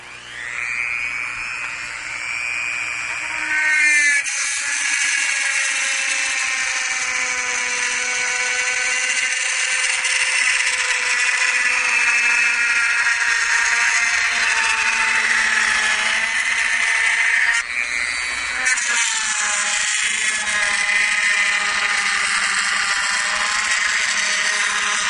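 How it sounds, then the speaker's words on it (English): A high-pitched rotary tool with a drill bit whines continuously, its tone dipping and rising as the bit cuts into a plastic PC case panel, loud and steady with no talking. "I'm using a drill bit just to cut everything out."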